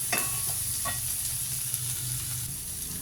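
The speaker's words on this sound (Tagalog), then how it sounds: "Ang ating niluluto ay Bicol Express chicken feet." Chicken feet cooking as Bicol Express in a pan, with a steady sizzle of frying throughout, a few sharp stirring clicks of a utensil near the start, and no talking.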